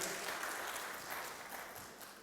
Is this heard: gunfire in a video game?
no